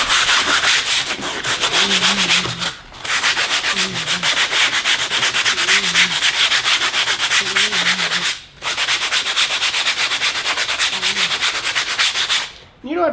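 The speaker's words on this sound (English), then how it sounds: "we're going to first take the sandpaper." Hand sanding raised sections of a Jeep Wrangler JK Freedom top with sandpaper: close, steady rasping strokes in a continuous scrubbing rhythm, with two brief pauses and no talking.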